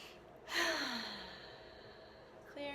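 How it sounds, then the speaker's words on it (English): A single slow, deep breath, a soft breathy rush of air that swells and then fades gently, heard close and quiet. "So just take in some deep breaths."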